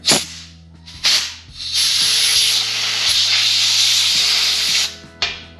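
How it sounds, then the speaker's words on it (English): Compressed air blasts loudly and close at parts from a Lawn Boy lawn mower carburetor: a couple of short hissing bursts, then one long steady blow, then a brief final puff. There is no speech. "So let's get that blown out here."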